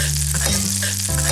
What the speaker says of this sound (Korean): 설탕을 15g을 이렇게 버터랑 이렇게 약불에 살짝 졸여요.